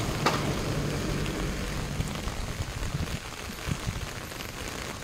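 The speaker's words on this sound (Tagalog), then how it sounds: "Buti kakaumpisa lang ng ulan." Rain begins falling on a morning, a steady wash of noise with scattered pattering drops and occasional louder taps, close and fairly loud.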